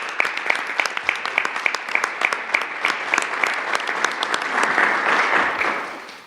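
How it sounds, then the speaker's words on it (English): An audience at an embassy funding presentation claps, starting with distinct individual claps that build into fuller, denser applause before fading out. "One round of applause for our program grantees."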